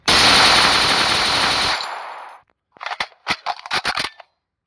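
Rapid gunfire from a shooter in the mobile battle-royale game Free Fire Max: a long, loud, continuous burst, then a short silence and a quick series of separate sharp shots.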